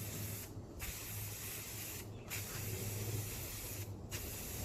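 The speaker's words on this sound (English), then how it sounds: "I'm going to be spraying the top of the table with this paint here." Rust-Oleum Satin Espresso spray paint hisses steadily onto a thrifted vanity table top, a close, continuous aerosol spray broken by three brief pauses between passes.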